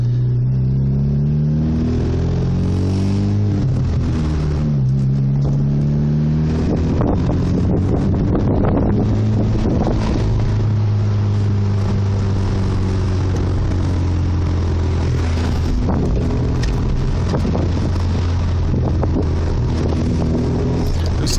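Car cabin noise while driving with BSH TSI engine mounts fitted, a steady engine drone rising and falling through revs and gear changes, with wind noise and no talk.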